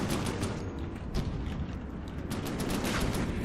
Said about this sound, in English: The cannon is fairly strong.